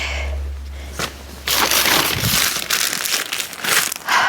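A plastic bag of leftover vintage fabric scraps is rummaged and crinkled up close, with loud, irregular rustling bursts after a quiet low hum.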